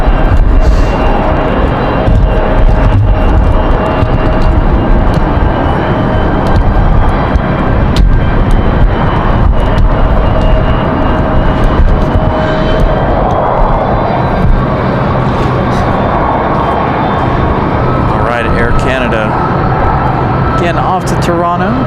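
An airliner bound for Toronto departs Raleigh-Durham airport in strong wind, its jet engines roaring loudly and continuously with gusty wind buffeting, while a voice talks over it.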